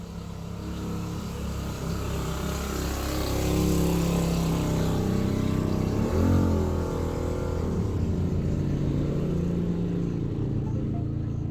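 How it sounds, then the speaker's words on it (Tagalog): Many vehicles pass along a road in a continuous loud roar of engines, rising and swelling as one passes close by near the middle, with no talking. "Dami ng sasakyan na dumadaan, anak"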